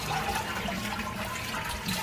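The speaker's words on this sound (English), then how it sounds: "After turning the water off, go ahead and flush the toilet." Toilet flushing to drain its tank with the water supply shut off, a steady close rush of draining water filling the whole short stretch.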